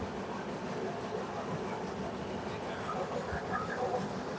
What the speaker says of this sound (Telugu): ట్రైన్ టర్నింగ్ తిరుగుతుంది, టూ టర్న్ తీసుకుంటుంది.